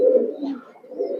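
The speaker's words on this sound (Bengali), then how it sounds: "সুন্দর কয়েকটা নর কবুতর আপনাদের দেখাই" Male pigeons in a loft of Bagha and green-necked birds give low rolling coos, two or three close soft phrases with a short dip between.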